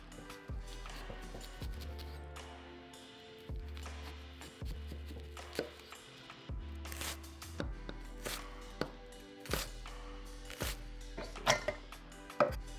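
A knife chops vegetables for Korean-style pork belly dumplings, with a run of close, crisp taps on a board coming in irregular bursts beneath a low steady hum, with no talk.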